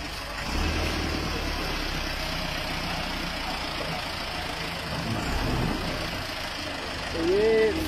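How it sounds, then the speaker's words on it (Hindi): A tractor engine runs steadily during a street cleanup drive in Gulistan-e-Johar Block 3, Karachi, its low idling rumble continuous and fairly close, with voices and street noise over it. "तो ये फिक्सिट का ट्रैक्टर टाइम में चल रहा है।"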